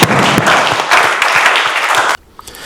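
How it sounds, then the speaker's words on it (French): A room full of people at a board of directors meeting clapping steadily for about two seconds, dense and close, then stopping abruptly into near silence. "on va les applaudir"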